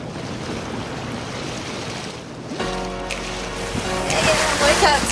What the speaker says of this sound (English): we got a fair bit of wind this morning, so we're scooting along.